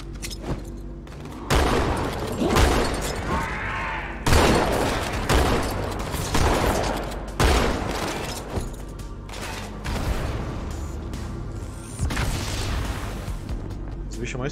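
Repeated heavy shotgun blasts in Halo 2 boom one after another at irregular intervals, loud and close, with talking in between.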